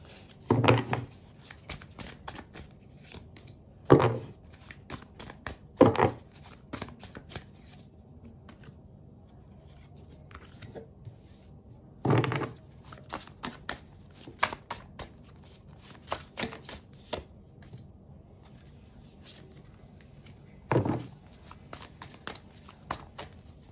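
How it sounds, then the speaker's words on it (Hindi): Tarot cards being shuffled by hand, repeated riffling bursts with crisp flicking and snapping, close and loud, separated by quieter pauses with soft card handling and tapping, with no talking. "Let me shuffle the cards"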